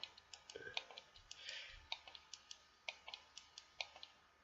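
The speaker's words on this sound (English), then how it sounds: "you're gonna hear my mouse through a lot of these" Computer mouse clicking picked up by a laptop's built-in microphone, a steady run of sharp, quiet clicks at irregular intervals, roughly every quarter to half second, with faint background noise and no speech.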